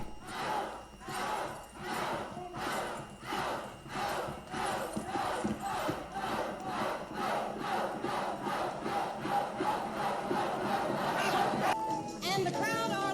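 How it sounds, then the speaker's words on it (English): Party crowd in a film scene chanting and cheering in a rhythmic, repeated pulse, loud group voices rising and falling steadily for several seconds. "the crowd are loving it as they follow her down the Denton Vale Trail"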